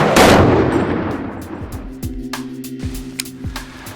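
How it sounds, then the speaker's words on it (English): A Daniel Defense DD5V1 rifle firing .308 Federal 175 grain Gold Medal Match ammunition, one sharp loud report followed by a long fading echo, then several fainter metallic clinks and impacts. "You're shooting federal 175 grain gold medal match, which is pretty much the gold standard for 308 in this role."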